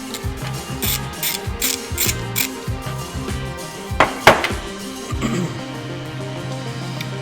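A size 4 Allen key turning to remove an original motorcycle bar end, a run of rapid metallic ratcheting clicks with a couple of louder knocks midway, close and steady with no talk.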